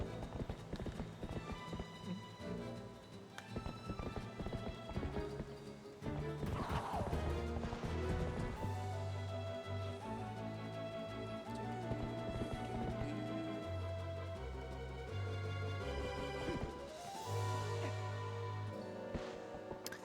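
A horse galloping in The Legend of Zelda: Twilight Princess HD, with rhythmic hoof clip-clops and a whinny inside a dense mix of game music and effects.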